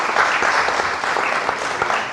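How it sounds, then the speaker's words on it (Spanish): Steady applause fills an auditorium during an engineering conference, many hands clapping together at a loud, even level for the whole stretch, with no voices above it. "por favor, un fuerte aplauso"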